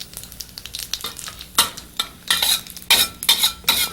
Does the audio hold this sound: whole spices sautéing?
yes